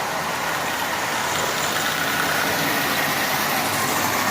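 A repaired prewar Marx 999 toy train locomotive with a replaced intermediate gear, running at 40% power with a loud, steady, even motor whir and rumble that holds constant throughout.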